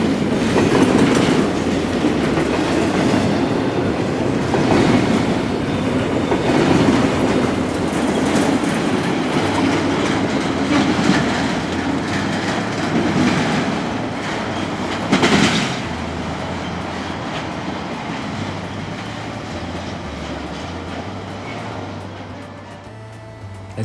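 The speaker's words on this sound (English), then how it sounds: "As this intermodal train cleared its path" A long intermodal freight train rumbles steadily past up close, wheels clicking and clacking over the rails in a continuous loud roar that slowly eases toward the end.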